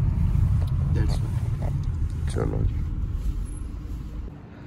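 A car pulling away on an icy glacier trekking spot in Kazakhstan, its engine rumble loud and close at first and then fading as it leaves, with people talking over it.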